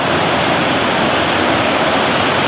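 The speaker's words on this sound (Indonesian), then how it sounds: "Di bawah kalau kita perhatikan sudah ada sungai." The Ulu Pungkut river flows below a road, a loud, dense, steady rush of water that fills the whole stretch with no talking.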